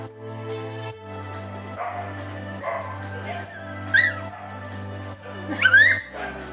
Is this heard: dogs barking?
yes